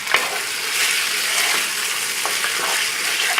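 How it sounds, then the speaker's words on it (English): Beef searing in a pot for cholent: a loud, continuous close-up sizzle and crackle, with a few light scrapes of a utensil, and no voices. "So once this browns, I'll take it out. So it takes a few minutes to get this going like this. But you want to sear the meat."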